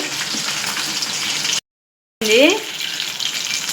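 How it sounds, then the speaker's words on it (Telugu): Chicken frying in a pan gives off a steady close sizzle that cuts out briefly, then resumes with a short scraping stir. "ఇంకా కొంచెం ఫ్రై అవ్వాలి"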